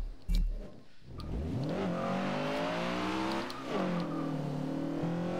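A car engine in the Forza Horizon 2 racing game revs up hard after a brief thump, climbing through the gears with a loud rising whine, dipping at a shift, then pulling again steadily.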